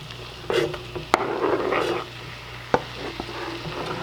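Green chilies go into a large pan of frying onions and garlic. A steady sizzle runs underneath, broken by a few sharp utensil clinks and stirring scrapes.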